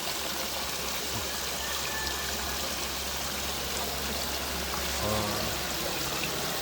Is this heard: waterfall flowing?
yes